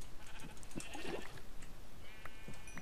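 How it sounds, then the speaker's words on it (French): Several sheep bleat in a Minecraft game, short wavering cries scattered across a few seconds at moderate volume over a faint background hum. "Oh bah il y a plein de moutons"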